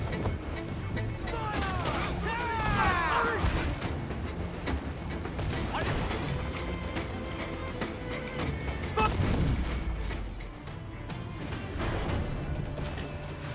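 Cannon fire in a naval battle in Assassin's Creed IV: Black Flag, repeated heavy booms and crashes amid battle noise, with crewmen shouting orders throughout.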